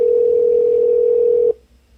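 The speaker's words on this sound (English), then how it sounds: "The caller has hung up." A steady, loud telephone tone sounds alone after a caller hangs up on a call, holding for about a second and a half before cutting off abruptly into quiet.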